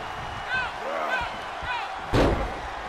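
Wrestler slammed into the corner in WWE 2K23, a sharp thudding impact near the end, under an announcer's commentary and a low arena murmur.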